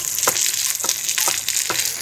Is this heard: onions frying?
yes